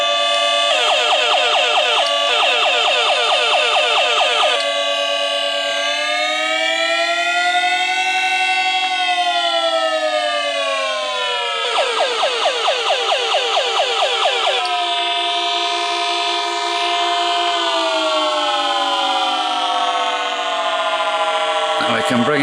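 Electronic Star Bird toy spaceship firing its electronic gun effects, a loud, continuous synthetic whine that sweeps up and down in pitch with bursts of rapid pulsing warbles, close and unbroken for the whole stretch.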